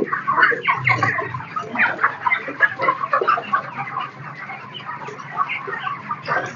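Broiler chickens in a poultry house cluck and chatter continuously as a dense, close flock, with overlapping calls and occasional louder squawks.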